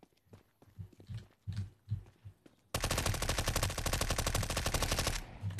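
Counter-Strike: Global Offensive gunfire: a few scattered footsteps and single shots give way to a long, loud burst of rapid automatic fire that lasts several seconds.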